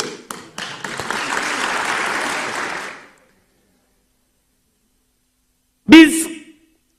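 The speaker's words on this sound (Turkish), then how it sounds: "Sanırım bu alkışlar sözü aldığımızın garantisidir" Crowd applause at a political meeting, fairly loud for about three seconds before cutting off into silence, followed by a brief burst of a single voice near the end.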